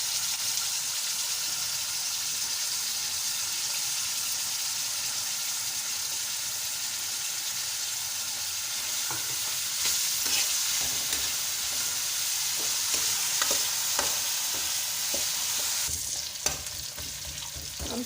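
Onion, garlic and ginger fry in a pan with a steady, close sizzle throughout while a utensil stirs and scrapes, the stirring clicks growing busier toward the end.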